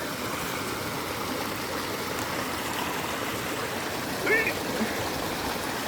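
Creek water rushes steadily over rocks at a trail crossing near Sewanee, Tennessee, a close, even wash of sound with a brief faint voice-like sound near the end.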